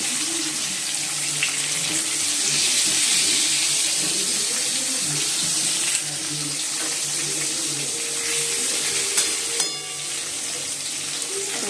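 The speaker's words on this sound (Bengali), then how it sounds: "আলুগুলো একটু ভেজে নিচ্ছি।" Potatoes fry in a pan in a home kitchen, a steady loud sizzle running throughout with a few clinks of a utensil against the pan.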